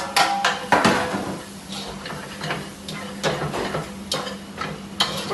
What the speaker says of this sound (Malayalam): ടൊമാറ്റോ ഇട്ട് നല്ലതായിട്ട് സോട്ട് ചെയ്യണം കുറച്ച്.